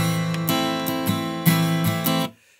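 Acoustic guitar strummed in a down-up pattern for the second part of a song's chords, several bright ringing strokes close up over about two seconds before the strings are muted and cut off.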